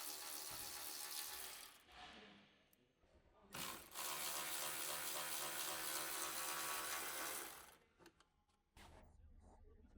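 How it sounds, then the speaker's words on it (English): An electric ratchet fitted with a 10mm shallow socket whirs in two bursts, a short one and then a longer sustained run, while removing the grille mounting bolts of a car, with quieter pauses around it. "Use the medium 10mm shallow socket with the electric ratchet. Remove the mounting bolts on the grill."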